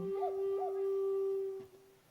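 A starving, bone-thin, trembling dog in the video game When Rivers Were Trails, giving a couple of short rising whimpers over a long, steady tonal whine that fades out toward the end.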